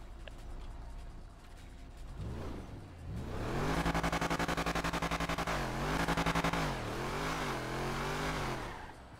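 A car engine in a video game idles, then revs up hard in first gear with rising and falling pitch, accelerating loudly through several surges.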